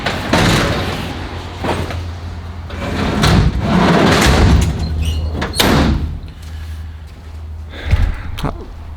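Heavy tool drawers slide in and out of the service body on a Ford F350 service truck, giving several loud rolling thumps and clunks in a steady, close sequence with no talk.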